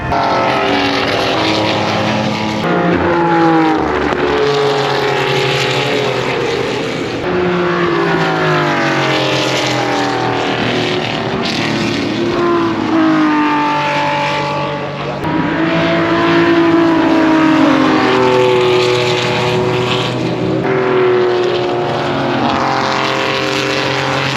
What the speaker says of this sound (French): je vous ferai profiter des autos qui passent parce que là il va y avoir la course des Racing Legends